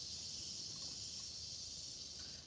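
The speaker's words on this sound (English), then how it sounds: "the cicadas are getting a little bit loud" Cicadas buzz outdoors in a steady, high, continuous drone that stays fairly faint throughout.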